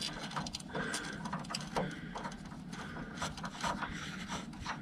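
Terminal screw being loosened on a 24V DC water heater, a close, continuous gritty scraping and ratcheting rasp with small clicks, steady throughout and without speech.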